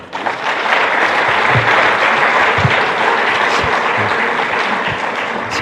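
A congregation at a farewell church service claps loudly to welcome a pastor, a dense sustained applause that fills the room with a few scattered low thumps throughout.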